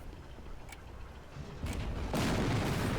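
Explosions in the video game Captain America: Super Soldier: a rumbling blast that swells, then a second, louder burst turning into a dense, sustained roar of debris and fire.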